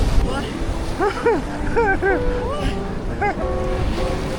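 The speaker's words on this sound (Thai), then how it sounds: "ถึงทะเลแล้ว" Sea waves and strong wind on the beach at Koh Larn, Pattaya, a broad rushing wash of surf and wind noise under close, excited chatter from several people.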